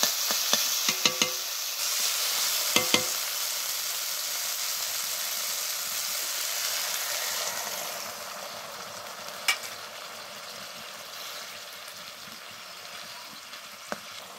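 Water goes into a hot pan of fried small chuno fish and water lily stems, setting off a loud, steady steamy sizzle that slowly fades, with a few clinks of a utensil against the pan near the start and later.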